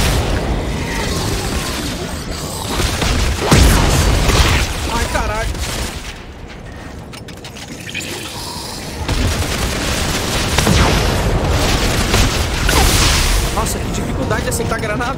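Booming blasts and heavy gunfire in the video game Dead Space 3, including a grenade explosion, loud and chaotic with repeated impacts over a sustained battle soundtrack.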